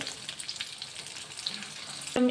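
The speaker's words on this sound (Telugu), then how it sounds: "ఇంక ఇప్పుడు వీటిని ఆయిల్లో వేయించుకోవాలి" Boiled eggs frying in hot oil for an egg pickle, giving a steady soft sizzle and crackle throughout, with a brief louder clatter near the end and no talk.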